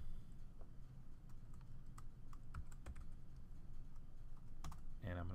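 A password is tapped out on a computer keyboard, a sparse run of quiet, separate key clicks over a low room hum, ending in a short burst of quicker taps.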